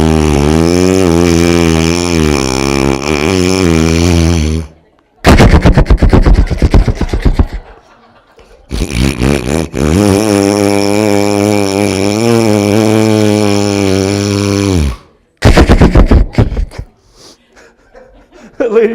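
A voice imitates a nasal snorer in long, buzzing, rattling bursts separated by short pauses, loud and close, with brief sharp exhales between the snores.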